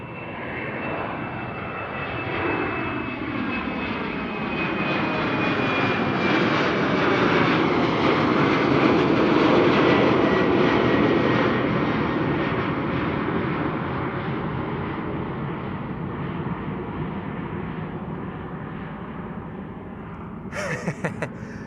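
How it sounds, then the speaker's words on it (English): A KLM Embraer 190 jet climbs out from Amsterdam Schiphol, its engine roar swelling to a peak midway and then slowly receding with a thin whine, alone without speech until a brief clatter at the end. "This is KLM flight 971 to Humberside, and Embraer 190 already up in the air."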